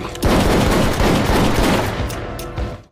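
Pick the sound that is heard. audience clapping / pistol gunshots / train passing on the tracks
pistol gunshots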